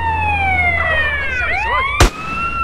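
A loud electronic ambulance siren in GTA San Andreas wails with falling and rising tones, then a sharp thud cuts in near the end.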